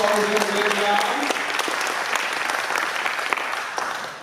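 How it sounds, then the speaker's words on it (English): Steady applause from a gathered crowd at a luncheon, a dense wash of clapping that holds at the same level, with a voice heard briefly at the start. "Let's give them a big round of applause for all doing a great job"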